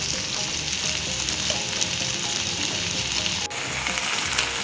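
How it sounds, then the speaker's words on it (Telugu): Ginger garlic paste sizzling hard in a hot frying pan, a steady, loud, close hiss with a faint crackle running through it and occasional stirring, no talking. "అల్లం వెల్లుల్లి పేస్ట్ వేస్తున్నాను."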